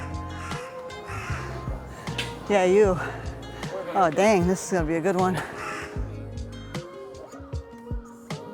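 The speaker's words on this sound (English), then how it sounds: "There's Mr. Crow on a treetop." A crow perched on a treetop in Kyoto caws in several harsh, rhythmic bursts, fairly close and loud, while people talk nearby on a hillside walk.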